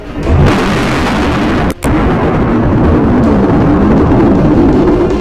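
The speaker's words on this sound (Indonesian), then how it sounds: "suara letusan Gunung Krakatau di tahun 1883" A deep, continuous roaring rumble of the 1883 Krakatau volcanic eruption in the Sunda Strait fills the clip, loud and steady, with a brief dropout near the middle before the roar resumes.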